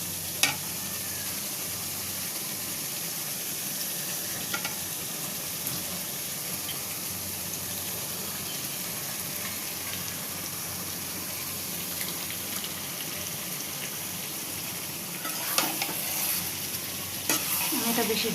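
Meat added to a well-fried, coloured spice masala in a pan for a thick pulao-style bhuna, with a steady close sizzle and frying hiss under continuous stirring and a few sharper utensil scrapes.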